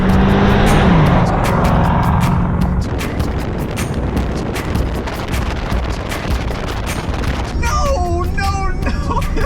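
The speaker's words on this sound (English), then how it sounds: "This is full throttle in the Elantra." A Hyundai Elantra accelerates at full throttle in a drag race, its engine droning loudly under heavy wind rush, while a voice talks over it.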